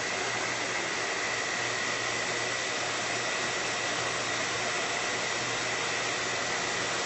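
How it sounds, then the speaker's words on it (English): Hair dryer blowing on acrylic craft paint, a loud steady whooshing hiss with a faint motor hum underneath, unbroken for the whole stretch with no talking. "with the hair dryer"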